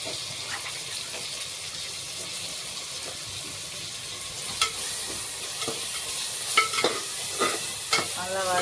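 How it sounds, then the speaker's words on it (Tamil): Tomato and ground masala paste being sautéed in a pan, with a steady soft sizzle and frying hiss running throughout and a few sharper clinks and scrapes of stirring toward the end. "விழுது அரைச்சி வச்சதை போட்டு நல்லா வதக்கிக்கணும்."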